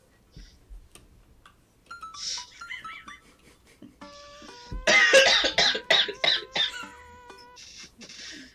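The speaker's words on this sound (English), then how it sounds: "I actually had to cough there." A person coughs several times in a loud cluster near the middle, with quieter throat sounds and light background game music around it.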